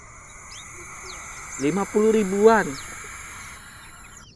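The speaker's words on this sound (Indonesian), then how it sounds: "Anakan burung hantu." A short harmonic, wavering screech-like call from a young owl lasting about a second, with a person speaking briefly nearby.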